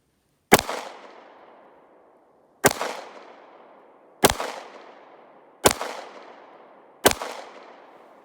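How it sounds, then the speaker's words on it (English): Five sharp pistol shots from a Nambu Type 14 fired standing at a range, evenly spaced about one and a half seconds apart, each a loud crack with a short fading echo. "now 5 rounds at 10 yards standing without a support"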